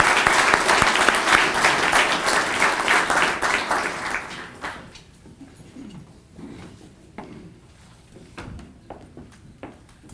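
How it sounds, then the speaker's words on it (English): Applause at a Rotary Club 80th anniversary gathering for the owners of two local radio stations, loud and full for about four seconds, then thinning to a few scattered claps and room noise. "I'd ask everyone to give them a round of applause."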